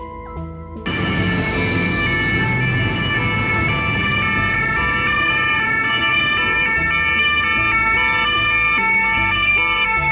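A loud ambulance siren wails continuously, close by, with traffic rumbling underneath.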